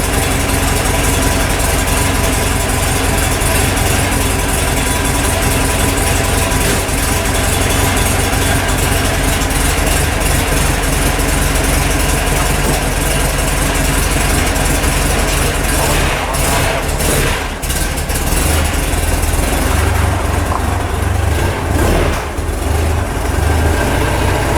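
Volkswagen Beetle engine idling, a steady, loud low rumble that runs unbroken throughout with a slight shift in tone near the end.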